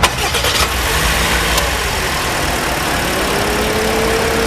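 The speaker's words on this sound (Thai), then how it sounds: "ไปฟังเสียงเครื่องยนต์กัน" A 2024 Toyota Yaris Ativ 1.2 Smart engine cranks briefly and catches, then settles into a steady, even idle, close and fairly loud with no one speaking.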